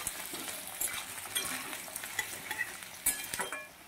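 Potato and eggplant pieces sizzle in hot oil in a pan, with a continuous moderate fry sound and irregular scraping stirs and occasional clinks of the spatula.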